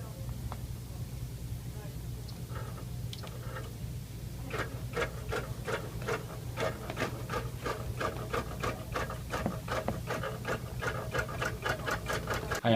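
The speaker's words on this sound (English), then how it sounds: "We're so excited to introduce the Q24 quilting machine from Bernina" A Bernina Q24 long arm quilting machine stitches in a fast, steady run of rapid mechanical ticks over a low hum, close and even throughout, with faint talk at the start.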